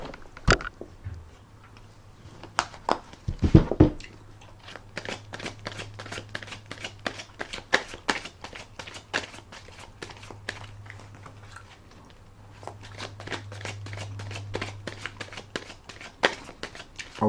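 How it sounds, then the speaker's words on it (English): A tarot card deck is shuffled and riffled in rapid crisp bursts of flicking and snapping, pausing briefly midway, with a soft low hum underneath. "I will put another shuffle and rifle on the deck."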